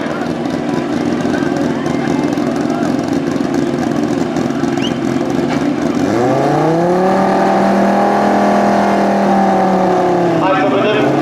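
Two tuned Audi S2 Quattro cars of 1000 and 1200 horsepower at a drag event, engines droning loudly before one revs and accelerates hard in a rising, sustained roar, with crowd voices underneath.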